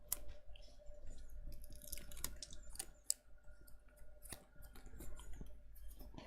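Scissors snip repeatedly through craft material for a book box project, quiet crisp cuts and clicks in an uneven rhythm, close and low in level with no talk.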